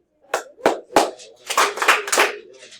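Hand claps in a math classroom, three separate sharp claps followed by a quicker cluster of claps, close and clear, with no talking.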